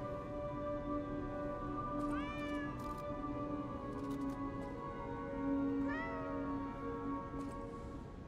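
A cat in the game Lies of P meows twice, each a clear rising-and-falling cry several seconds apart. Both sit over a steady tonal hum and soft background rumble.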